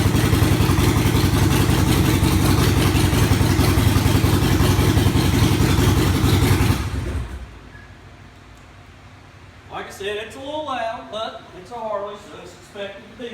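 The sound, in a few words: Harley-Davidson Sportster 48 motorcycle engine idling, warming up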